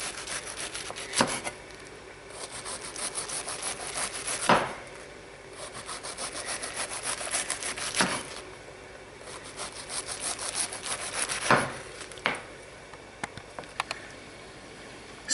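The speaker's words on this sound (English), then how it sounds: "while the bacon's cooking, I'm going to shred some cabbage" Thin shredding of plain green cabbage with a kitchen knife: rhythmic rasping cuts in close bursts, with several sharp louder strokes standing out and short pauses between runs, no talking.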